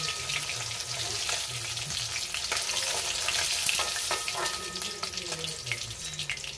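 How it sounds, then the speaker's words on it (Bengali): Silver carp pieces fry in hot oil in a home kitchen, giving a steady crackling sizzle with scattered pops and spatters and occasional stirring, with no talk over it. "একটু হলেই মাছটাও ভাজা আমাদের হয়ে যাবে।"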